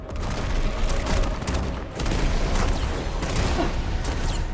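Magic projectile fire in the PS5 action game Forspoken, during a boss fight at Tanta Sila's Castle, comes as a dense, loud, continuous barrage of bursts and booms with no gaps and no voices over it.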